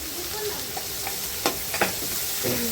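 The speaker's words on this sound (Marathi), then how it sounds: "बघा, मी इथे कुटलेलं मिरची आणि लसूण यामध्ये टाकलेलं आहे." Crushed green chili and garlic fry in hot oil for a home-style moong dal and chickpea-greens dish, a steady close sizzle broken by a few sharp spatula scrapes and stirs.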